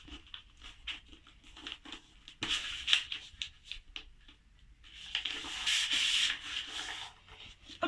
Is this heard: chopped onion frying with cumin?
no